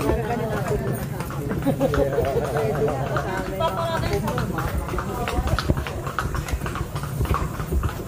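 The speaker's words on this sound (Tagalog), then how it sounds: "Bigyan tayo ng kabayo." Horse hooves clip-clop steadily along a street in Intramuros, Manila, amid crowd chatter and people talking nearby.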